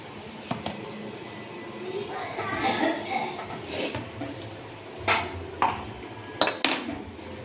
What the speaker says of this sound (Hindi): बर्तन साथ साथ होते जा रहे हैं